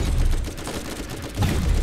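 Rapid gunshots from the video game Borderlands, a dense burst of firing that dips briefly and then surges again, loud and close.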